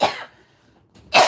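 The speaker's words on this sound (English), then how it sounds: "apologize for all the throat clearing and the coughing" Two sharp, close coughs with a throat-clearing rasp, one at the start and another a second later, separated by near silence.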